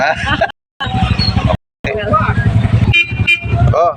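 Busy street traffic at an intersection, with short car horn toots and engines rumbling close by under nearly constant talking voices, the sound dropping out briefly twice.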